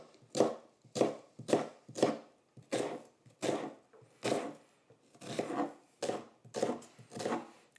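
A knife making vertical cuts through an onion on a board, a run of about a dozen crisp, evenly spaced chops at a steady rhythm, close and clear with no talking.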